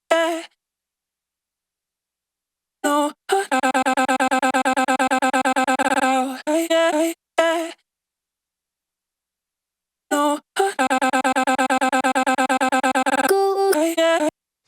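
Untreated monosyllabic vocal chops for a sampler kit, short sung syllables fired in two rapid stuttering bursts separated by silence, each burst a dense repeated run of clear voiced notes.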